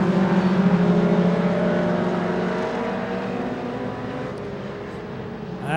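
Race cars roar past on a super short track, a loud blended pack of engines sweeping by with shifting pitch, sustained and close, fading slightly before another surge at the end.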